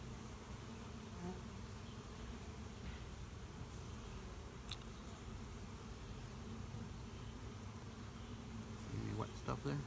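Honeybees buzzing around an open beehive during a hive inspection, a dense continuous drone close by with faint clicks and rustles, steady throughout before some handling noise at the end.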